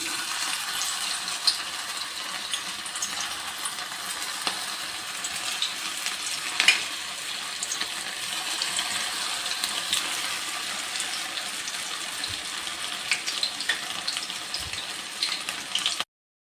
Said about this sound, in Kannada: ನೋಡಿ ಗೈಸ್, ಎಣ್ಣೆ ಕಾದೈತಿ. ಈಗ ಮಿಕ್ಸ್ ಮಾಡಿ ಇಟ್ಕೊಂಡಿದ್ವಲ್ಲ ಅದನ್ನ ಹಾಕ್ತೀನಿ